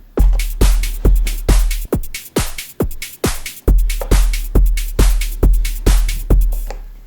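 Two Korg Volca drum machines layered for 90s uplifting trance: a steady four-on-the-floor pattern of deep, sub-heavy kicks with bright hats and claps, loud and driving, with a brief dropout midway before the beat resumes.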